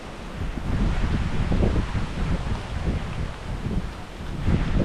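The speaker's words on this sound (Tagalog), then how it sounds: "Masarap ang hangin dito" Strong wind buffets the microphone in loud rumbling gusts, rising and falling with no voices.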